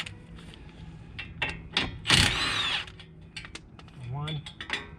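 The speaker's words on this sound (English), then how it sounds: "I'm going to use the impact because it's just a lot quicker" An impact wrench rattles in short bursts on a car's front suspension bolt, with clanks and mechanical clicks between the bursts.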